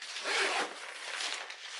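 Zipper on the rear pouch of a Shimoda 40L camera backpack being pulled open, giving a continuous close, rasping slide that lasts nearly two seconds with slight swells in loudness.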